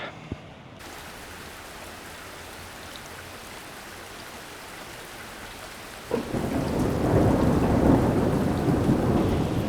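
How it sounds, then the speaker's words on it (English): Heavy rain pours down under a black sky, starting as a steady patter and swelling into a loud, dense downpour, with a low thunder rumble rolling through partway. "they're big spots of rain and the sky is black"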